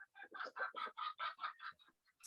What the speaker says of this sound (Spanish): ¿No se oyen mucho los gallos?